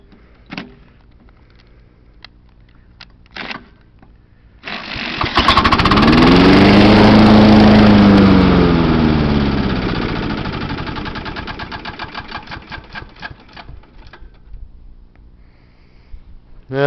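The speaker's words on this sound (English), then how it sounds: "we're gonna start up this John Deere. See what she does." A 1996 John Deere JX85 walk-behind mower engine is cranked with the choke on, roaring loudly for several seconds before winding down and sputtering to a stop, with faint clicks before and after.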